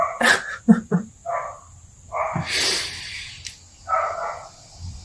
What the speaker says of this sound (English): I'm really sorry that my neighbor's dog has been let outside.